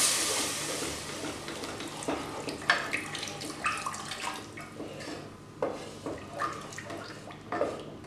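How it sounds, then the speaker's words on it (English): A cup of water poured into a carrot and oats kofta curry gravy, making a soft, continuous splashing pour with scattered clinks of utensils against the pot, close by and with no talking. "Now I'm adding 1 cup of water to this."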